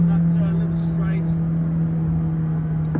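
A McLaren 600LT pulls hard in third gear, its engine a steady, loud drone with a strong tonal hum that holds from start to finish. Light talk runs underneath.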